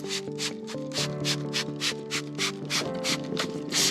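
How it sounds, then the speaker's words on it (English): Quick, regular brushing strokes scrub dry material off a herb grinder up close, about ten swipes in a steady rhythm over a sustained tonal background. "I'll actually try to brush out again all the dry material I possibly can off the front"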